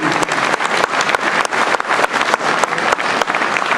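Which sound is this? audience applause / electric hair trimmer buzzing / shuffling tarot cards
audience applause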